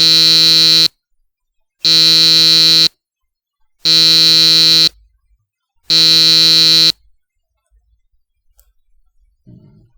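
An electronic buzzer sounds four times in steady one-second bursts with pauses between, loud and piercing, followed by faint clicks and quiet.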